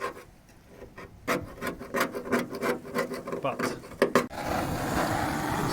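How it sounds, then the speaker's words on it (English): A hand scraper rasps heated paint off rusty metal, giving a run of close, rough scrapes in irregular strokes, followed by a steadier hiss, with no talk. "This jiggy here, heat her up, scrape her off."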